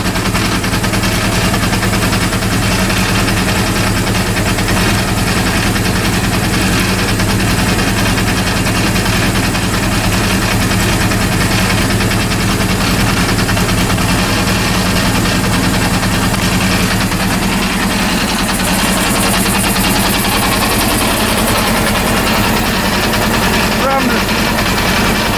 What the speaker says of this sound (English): There is a strange sound, strange noise from left side of this engine.